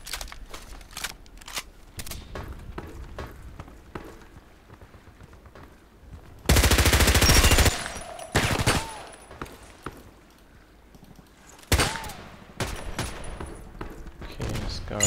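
Gunfire in the online shooter Contract Wars, with an H&K MP5K in use: scattered sharp shots through the clip, then a dense sustained burst of automatic fire near the middle and another short burst later.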